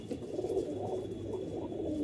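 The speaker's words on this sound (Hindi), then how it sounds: "एक से एक दिग्गज कबूतर है।" Low, soft cooing of pigeons, several overlapping throaty calls close by, continuous and gentle throughout.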